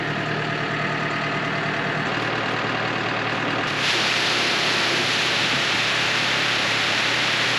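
A 110-horsepower farm tractor engine runs steadily at a constant drone while spreading fertiliser on lucerne and pasture, with a broad hiss and a slight lift in noise partway through.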